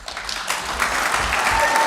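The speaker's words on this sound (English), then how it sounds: "Impossible not to applaud for that." Congregation applauding in a church during a Lessons and Carols music service, a dense, steady wash of many hands clapping that holds at an even level throughout.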